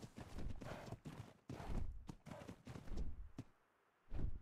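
Horse hooves walking in the video game Ark, with a quiet, uneven series of soft thuds and clops and a brief pause near the end.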